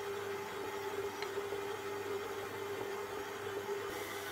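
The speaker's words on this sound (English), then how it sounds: "And for this Kenwood mixer, I've set it on first speed for 1 minute." A Kenwood stand mixer on its first, slowest speed mixes a white bread loaf dough, giving a steady, fairly quiet motor hum with a constant whirring tone and no pauses.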